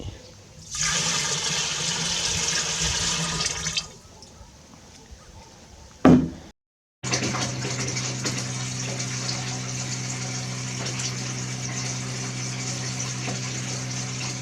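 Water gushes into a botanical spirit for a few seconds, stops, then after a brief knock and a moment of silence a steady flowing, pouring sound resumes and continues.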